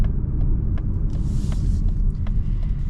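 Interior of a 2026 Mazda CX-30 on the road: a steady low rumble of engine and tire noise, continuous and moderately loud, with no one talking.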